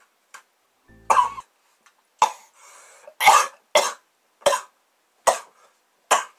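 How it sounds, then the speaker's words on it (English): A man coughs repeatedly, with about eight sharp, loud coughs spaced irregularly, some in quick pairs, with a brief throat-clearing sound in between. "Ooh, my coughing reminded me of another thing."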